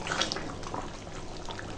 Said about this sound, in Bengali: তো এখন দিয়ে দেবো জল